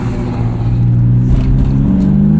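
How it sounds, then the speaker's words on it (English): A 1998 BMW M3 E36 with 250,000 miles revs steadily in second gear with a deep exhaust drone and intake roar, loud and close, holding a sustained throaty tone without pause. "Intake and the exhaust pair together mesh really nicely."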